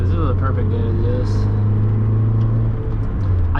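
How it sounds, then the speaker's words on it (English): A loud, deep Mazda Miata engine drones steadily from inside the moving car, a constant low rumble filling the space. "because this car is really loud"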